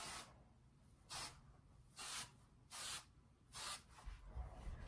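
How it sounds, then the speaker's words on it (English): Hairspray misted onto fine hair in short hissing bursts, five quick sprays at a steady rhythm, close but soft, no voices. "And get some hairspray in it because my hair is super, super fine."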